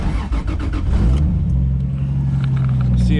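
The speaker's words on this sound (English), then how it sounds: "So we're gonna run the car now" A car engine runs after an injector output was moved to another connector, first revving briefly, then settling into a steady, close, loud idle hum with no talk.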